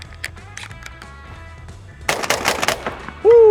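A Benelli Super Black Eagle 3 20-gauge shotgun firing light target loads in quick succession. A few softer reports come first, then a rapid cluster of loud blasts, followed by a voice exclaiming.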